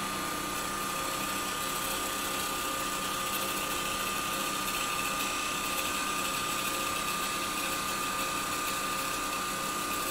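Wood lathe spinning a thin-walled piece as the tool takes a shaping cut, a steady continuous whir with a high constant tone and a grainy hiss of shavings, even in level throughout with no talking.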